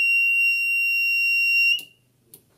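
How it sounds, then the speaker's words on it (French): A shrill electronic buzzer on a battery charger, sounding as charging of an ordinary battery stops, holds one steady, piercing tone for nearly two seconds, then stops, followed by a couple of faint clicks. "le buzzer s'est activé"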